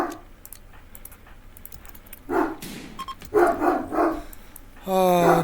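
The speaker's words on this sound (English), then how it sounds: "And he's still barking." A dog barks in the RimWorld video game, a few short yaps among keyboard typing and faint clicks, ending in a loud tonal burst.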